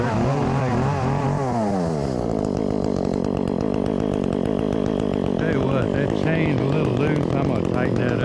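A chainsaw engine warms up close by, running loudly throughout with rough, uneven idling and small surges of revving.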